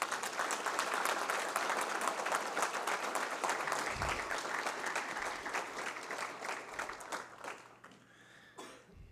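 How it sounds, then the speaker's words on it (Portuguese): Warm applause fills a formal ceremony hall at a solemn council session honoring a Gaviões da Fiel supporters' group branch, steady clapping with a cough, then fading out near the end. "Uma salva de palmas para vocês."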